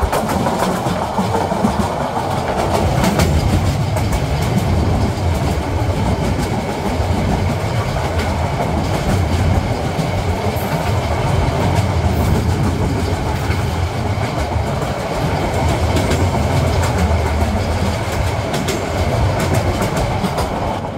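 Porjotok Express passenger train running from Cox's Bazar to Dhaka at night, in a modern Korean-built coach: steady loud rumble of wheels and carriage with rhythmic clickety-clack throughout, no voices.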